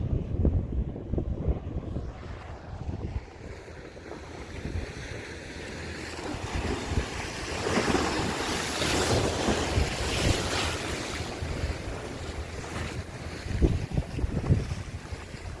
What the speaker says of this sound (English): See the tugboat waves? Those are pretty big for a vessel that size.